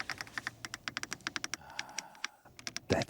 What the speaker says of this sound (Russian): Здесь все еще остался физический блок климат-контроля, и снова с приятным тактильным щелчком при нажатии.